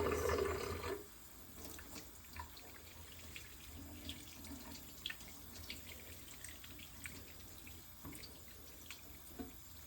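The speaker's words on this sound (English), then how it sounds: "Wash my hands for 20 more seconds." Tap water runs steadily into a sink during handwashing, a soft continuous splashing after a louder opening second, with occasional faint drips and clinks.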